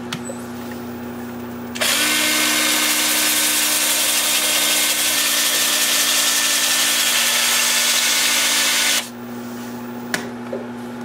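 A loud, steady abrasive hiss of 80-grit sandpaper against a spinning alder bowl on a wood lathe for several seconds, over a constant motor hum that continues before and after.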